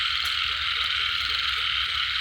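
Frogs croak in a loud, dense chorus on a rainy night where frogs and narrow-mouthed toads are being caught, a continuous close rattling drone with no talking.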